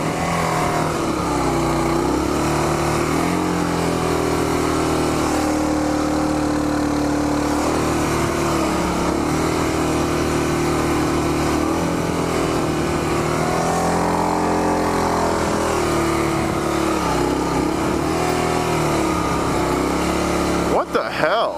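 A motorbike engine revs and strains in loose beach sand on Hatteras Island, its pitch rising and falling in long, sustained surges, loud and close throughout, with a voice talking over part of it.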